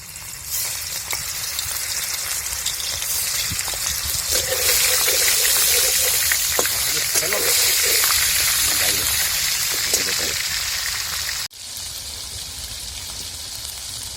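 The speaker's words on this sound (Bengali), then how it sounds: "মাছও তো কি ফাটছে তেল চিকাচ্ছে লাল লাল করে ভেজে নিয়েছে" River ban fish, an eel, frying in hot oil on a village kitchen fire, a loud, steady sizzle with crackling spatter close by, and faint voices in the background.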